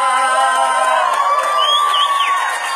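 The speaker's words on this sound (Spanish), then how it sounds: "dale fuerte ese aplauso a Él" Crowd at a Christian worship concert cheering and applauding over ongoing music, with loud whoops and shouts rising from the audience.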